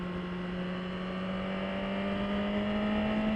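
A 2018 Suzuki GSX-R1000 sport motorcycle's exhaust drones steadily at high revs, a continuous buzzing scream with slowly rising tone and no pauses.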